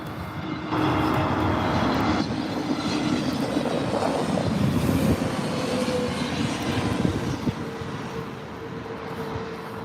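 Loud, steady jet engine roar from a passing Aer Lingus airliner at London Heathrow, broadband rumble with a whining tone, sustained throughout with no talking.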